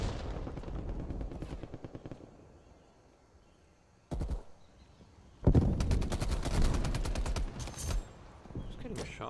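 Gunfire in Call of Duty Black Ops Cold War comes in rapid automatic bursts that start and stop, then a heavy sustained burst near the end, with speech in the mix.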